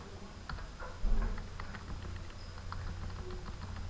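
Quiet, irregular keystrokes on a computer keyboard as code is typed, soft scattered taps and clicks over a low steady background hum with no talking.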